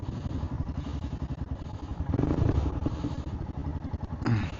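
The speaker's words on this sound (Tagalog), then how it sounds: "Ang ingin ng motor ko." A noisy motorcycle engine idling and revving on a breakfast run in the Philippines, a close, rough chugging rhythm with a couple of louder surges, no speech over it.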